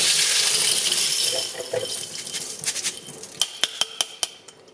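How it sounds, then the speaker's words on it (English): Tumbled jewellery, including a blackened bracelet, is strained under running water in a sink, giving a steady rush of tap water that fades, then a series of sharp metallic clinks and rattles near the end. "we'll strain this"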